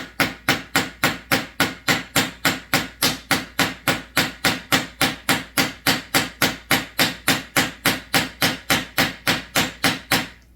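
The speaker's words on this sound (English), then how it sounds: "You can use the flat end of the hammer to flatten them out a little bit more." A hammer's flat face strikes metal pins while a new chainsaw bar tip is fitted, a steady run of about thirty sharp, evenly spaced blows at close range, with no talking.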